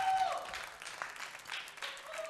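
Audience applause for bartender Ingus on a television show, a moderate burst of clapping from a studio crowd with a brief tone at the start and a faint voice underneath.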